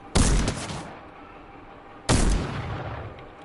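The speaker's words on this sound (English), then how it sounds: "Oh my god, an airstrike." Two heavy airstrike explosions from Fortnite land about two seconds apart, each a loud, close boom with a rumbling tail.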